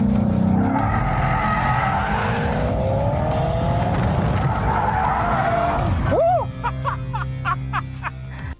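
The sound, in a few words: Maserati drifting around a corner, tires skidding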